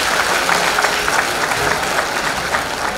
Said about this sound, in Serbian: Još jedan veliki aplauz za izvođačku ekipu.